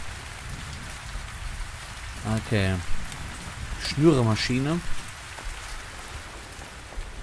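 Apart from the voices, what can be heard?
rain falling in a survival video game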